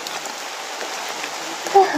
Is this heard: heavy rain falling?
yes